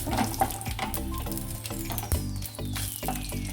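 A spoonful of peanuts frying in hot oil in a pan, a short continuous crackling sizzle with light stirring, set against sustained background music.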